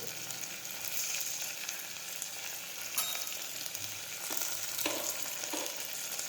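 Cumin seeds and turmeric sizzle steadily in hot oil in a pan, a close crackling fry with a few sharp utensil taps and stirring scrapes scattered through it.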